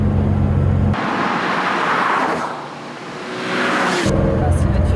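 A 2021 Porsche 911 S engine runs loud and close, first as a steady idle, then in a surging rev that dips and swells, before settling back into a low rumble.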